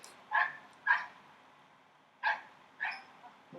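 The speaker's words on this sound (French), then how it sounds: "je suis accompagnée d'animaux, les chiens qui aboient" Dogs bark during a guided meditation session: four short, separate barks spaced irregularly over a few seconds, moderately distant and fairly faint, with no talking over them.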